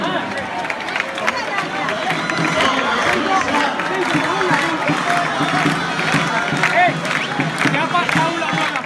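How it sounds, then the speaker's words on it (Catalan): A festival crowd at the unveiling of the small basilisk figure in Reus claps and cheers steadily, a dense, loud wash of applause and voices lasting throughout without a break. "Ara sí, un fort aplaudiment."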